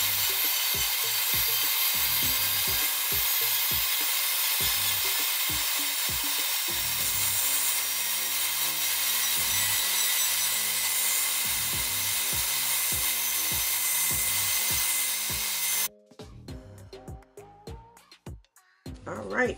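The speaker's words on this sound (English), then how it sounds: "I always sand the edge of the lid because this is the piece that people handle all the time." Electric sander buzzing steadily against the edge of a resin domino storage box lid, close and loud, with short pauses and bumps as the tool shifts, then cutting off near the end into quieter handling noises.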